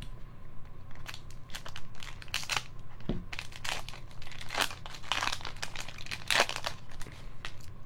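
A Magic: The Gathering card booster pack torn and crinkled open by hand, producing a close, continuous run of crackling foil-wrapper crinkles and tearing bursts with no talk.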